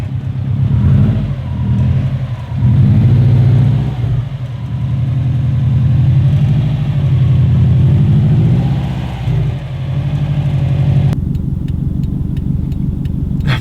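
A Subaru STI engine rumbles loud and close as the car pulls out, a steady low drone that swells and dips with throttle over several seconds before a brief gap and a rougher idle-like putter.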